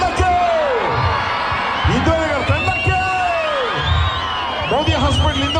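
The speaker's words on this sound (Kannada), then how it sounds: "ಜೋರಾಗಿ ಅವ್ರಿಗೆ ಚಪ್ಪಾಳೆ ತಟ್ಟಬೇಕ್ರಿ." Spectators at a village temple-fair mallakhamb contest clap and cheer loudly for the Indranagar team, a sustained wall of applause with scattered whoops and shouting voices.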